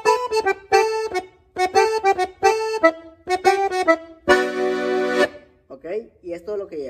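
A G-tuned button accordion plays a phrase of short melodic notes ornamented with quick grace notes, then one long sustained chord, from a tutorial; a brief voice follows at the end.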